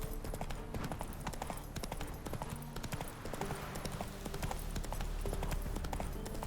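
Horse hooves clip-clopping at a steady gallop while riding in The Witcher 3, a rapid, continuous rhythmic pounding that stays loud and close over a game soundscape.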